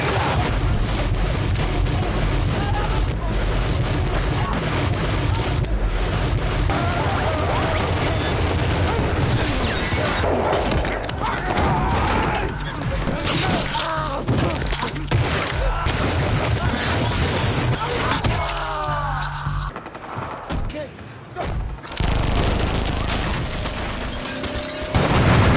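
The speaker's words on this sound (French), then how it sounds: "Dès lors, des tirs vont surgir de part et d'autre." Gunfire trades back and forth in an action-film shootout, loud and dense throughout, with booming shots and mechanical clatter layered over a continuous dramatic score and effects, and voices briefly audible in the mix.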